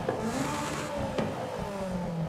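A car engine with stock cams revs in the Forza Horizon 5 racing game, a steady mid-pitched drone rising and falling smoothly throughout, loud and continuous with no talking.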